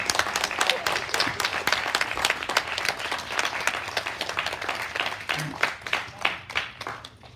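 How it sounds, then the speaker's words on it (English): Filmmakers receive a standing ovation from a youth media summit audience: continuous, dense clapping from a large crowd, steady and fairly near, thinning into a few scattered claps toward the end. "Can we give them another round of applause?"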